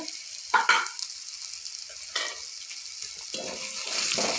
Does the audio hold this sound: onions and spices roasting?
yes